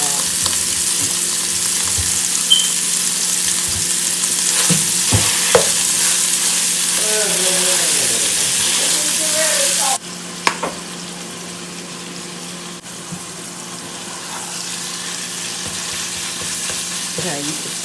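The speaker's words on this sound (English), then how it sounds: "I'm going to brown this ground beef" Ground beef browns in a pot with a constant loud sizzle, broken now and then by scraping stirs and clatters of a utensil, and a quieter stretch partway through.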